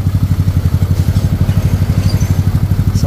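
A Yamaha Mio 160cc scooter with a Pro Kalkal aftermarket exhaust pipe revs steadily with a loud, throbbing exhaust pulse, rough and rhythmic throughout, close up with no talking.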